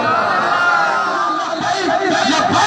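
Large crowd at a religious gathering chanting slogans together, a loud massed roar of voices swelling and falling over a few seconds.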